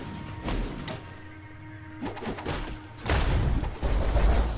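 A series of muffled booms and thuds from explosions in Path of Exile, with crackling bursts building louder toward the end.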